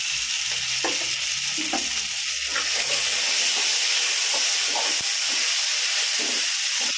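Tomatoes and paneer sauté in a pan for paneer bhurji, giving a loud, continuous sizzle and hiss with scattered scraping stir sounds throughout.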